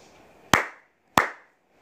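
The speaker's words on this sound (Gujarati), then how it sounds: "અરે આ શું ફરી બે વખત તાળી વાગી" Two sharp hand claps, close and distinct, about two-thirds of a second apart, each with a short decaying ring against near silence.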